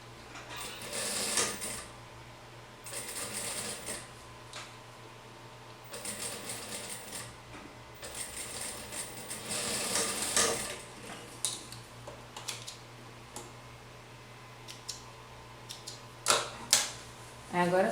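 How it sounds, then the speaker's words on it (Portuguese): A sewing machine stitches a seam to close a vest lining, with short bursts of mechanical whirring and clicking separated by pauses, close and moderately loud over a faint steady hum. "Agora a gente vai passar uma costura aqui"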